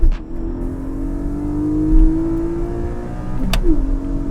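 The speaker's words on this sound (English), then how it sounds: "4-liter flat 6 that's also naturally aspirated and sounds like this." Close, loud Porsche 718 GTS 4.0 naturally aspirated 4-liter flat-six engine revs up with a rising, raspy howl, holds briefly, then drops as a gear shift hits and it climbs again.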